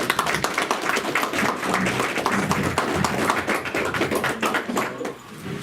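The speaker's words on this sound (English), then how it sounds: "Everybody clap it up." An audience claps at a live stand-up comedy show, a continuous sharp patter of many hands at moderate level that tapers off near the end.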